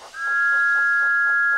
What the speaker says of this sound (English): And he whistled as loudly as he could.